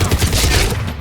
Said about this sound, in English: Give us some cover fire!